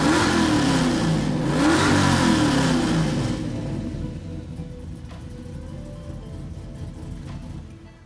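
A car engine revs loudly to about 6,000 rpm and climbs in pitch, holds high, then settles into a lower steady drone with faint background clicks.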